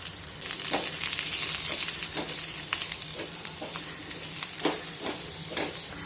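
Cumin, green chili, garlic and raw mango pieces sizzle steadily in a pan over a low flame, with a continuous loud hiss and repeated scraping stirs throughout.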